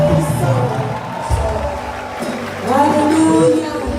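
A church congregation shouting and cheering for joy, a loud crowd of overlapping voices with whoops swelling and fading across the stretch.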